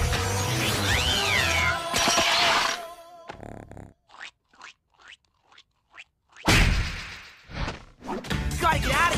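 Cartoon cat meows and yowls amid bouncy sound effects, thumps and music, loud at first, then a sparse run of short hits before the noisy cartoon soundtrack returns.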